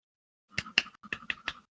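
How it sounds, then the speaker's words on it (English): Several sharp hand claps in a quick, uneven burst of about five, close and crisp against silence. "He literally claps out of excitement."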